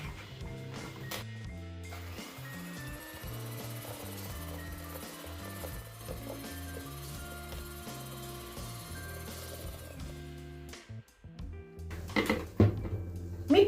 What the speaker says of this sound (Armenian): Ամանի մեջ լցնում ենք 2 ձուն, լցնում ենք 100 գրամ շաքարավազը և մեր այս զանգվածը լավ հարում ենք